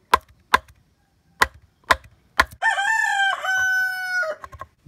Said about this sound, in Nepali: भाले पनि बासिरहेको छ